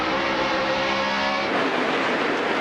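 A NASCAR stock car roars past with wheel spin during a race, a loud continuous engine drone and tire noise filling the whole stretch, the pitch shifting midway as it passes.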